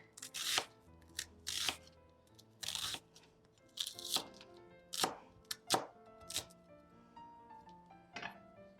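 A knife finely chopping celery on a cutting board, about a dozen crisp, irregular strokes with short pauses between them, close and clear against a quiet background with no voices.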